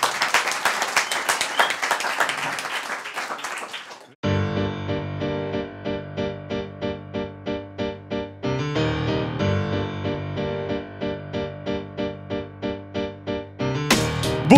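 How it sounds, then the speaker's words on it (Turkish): A studio audience on a Turkish late-night talk show claps loudly for guest Esra for about four seconds, then the applause cuts off as rhythmic, beat-driven music takes over. "Esra'yı bir tur daha alkışlıyoruz."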